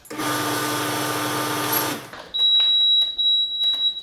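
A repaired tumble dryer that had stopped heating runs on test, a steady loud mechanical hum and drum whir for about two seconds, then stopping, followed by quieter clicks and a thin high tone.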